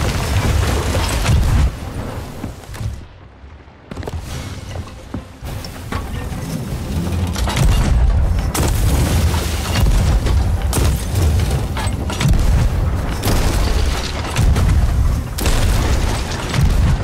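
Bombs exploding aboard a ship in the Sea of Thieves video game: heavy, loud booming blasts and rumbling debris, with a brief lull before the explosions swell again into a sustained, thundering roar.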